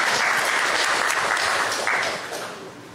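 Audience applause at a university event, steady dense clapping from a crowd that holds strong for about two seconds and then begins to thin and fade.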